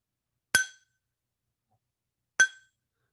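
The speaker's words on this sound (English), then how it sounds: "I have a glass here and a spoon" A metal spoon strikes a glass twice, two sharp bright clinks about two seconds apart, each ringing briefly before fading into silence, close and clear.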